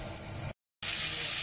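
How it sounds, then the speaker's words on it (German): A saddle of venison, larded side down, sears in hot melted fat in a frying pan, giving a loud, hissing sizzle that cuts out briefly and then returns at full strength. "jetzt schon der Rehrücken in das heiße, zerlassene Fett zum Anbraten"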